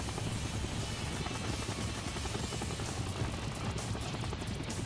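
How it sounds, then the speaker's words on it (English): A helicopter in the wrestling video game SmackDown! Here Comes the Pain hovers over Times Square, giving a continuous, dense rotor drone with a low throbbing hum that holds steady throughout, with no voices. "Yeah, you can jump off a fucking helicopter in the middle of Times Square."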